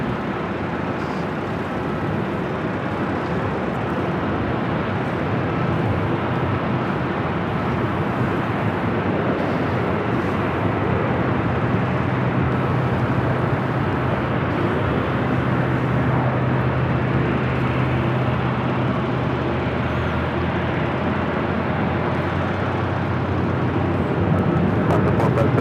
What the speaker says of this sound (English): this is Lufthansa Flight 457 heading back to Frankfurt there in Deutschland. It's a 12-year-old 747-8 Intercontinental